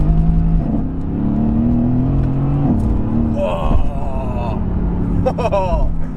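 A supercar in Sport Plus with manual shifting accelerates hard, its engine note rising and holding in steady pulls with a brief shift, heard from inside over road noise.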